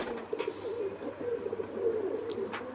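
A pigeon coos softly and steadily, a low rolling call repeated for a few seconds, faint and fairly close, with a few light chirps in the background.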